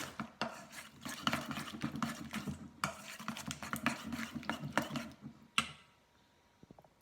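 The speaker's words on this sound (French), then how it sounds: "Vous mélangez bien." A mixture with flour being stirred in a bowl, a steady run of scraping, knocking strokes from utensil against bowl that stop near the end, with a few faint clicks afterward.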